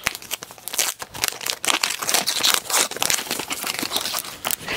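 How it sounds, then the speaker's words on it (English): White wrapping paper on a Cartier gift is torn and crumpled open in rapid, irregular bursts of ripping and crinkling, loud and close, with no talking. "do not like to rip this white paper like this"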